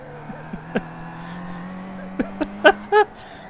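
A Kia Optima PWC GTS race car holds a steady engine drone while overtaking at Summit Point in iRacing, with a few sharp clicks and tonal blips late on, all close and moderately loud.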